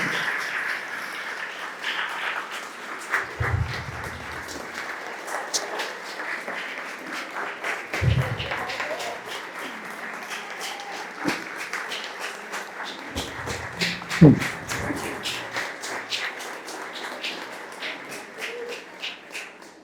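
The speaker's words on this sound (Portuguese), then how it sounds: "a gente batesse uma salva de palmas para as pessoas do parque" Audience applause at a school gathering in a park, a fairly faint, diffuse round of clapping running throughout, with a few louder taps and thumps scattered through it.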